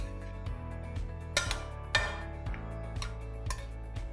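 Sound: mixing feta cheese salad

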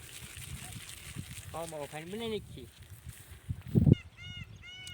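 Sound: peacocks calling

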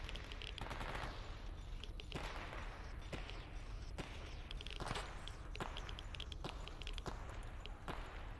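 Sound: gunfire from an enemy in the video game STALKER

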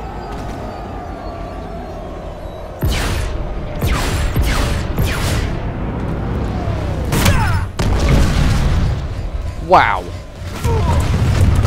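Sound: ship crashing down in video game Planetside 2

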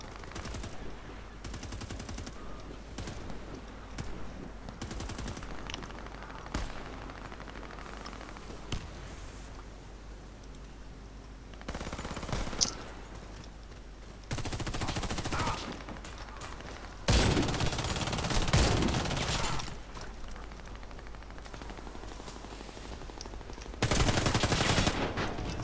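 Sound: gunfire in a video game

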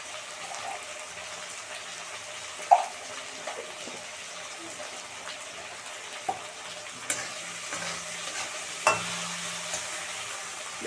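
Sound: ghugni being stirred and sautéed in a pan

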